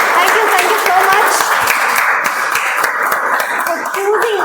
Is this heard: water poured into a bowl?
no